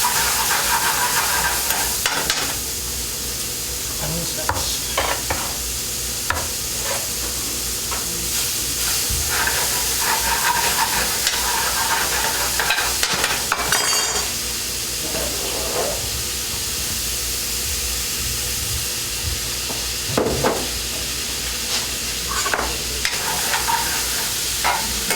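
Meat and onions frying in a pan while being stirred: a steady close sizzle and hiss runs throughout, broken by repeated scraping stirs and occasional clinks of utensil on pan, with no talking.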